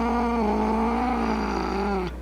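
A kitten cries in one long, loud, wavering wail that sags in pitch and cuts off near the end, with a steady low hum underneath.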